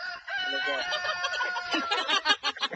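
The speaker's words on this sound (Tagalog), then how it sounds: "Galit na yung manok." An agitated chicken on a farm squawks and crows loudly and close, with harsh calls running almost continuously and growing choppier toward the end.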